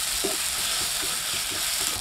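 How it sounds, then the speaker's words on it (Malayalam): Ginger-garlic paste and onions sautéing in a pan, a close continuous sizzle with soft stirring scrapes, no talking. "അപ്പോൾ ഒരു ഒരു സ്പൂൺ ഇഞ്ചി വെളുത്തുള്ളി പേസ്റ്റ് കൂടി ഇട്ട് കൊടുത്തിട്ടുണ്ട്. അത് ആ പച്ചമണമൊക്കെ മാറുന്നോടും വരെ അത് നമുക്കൊന്ന് വഴറ്റിയെടുക്കാം."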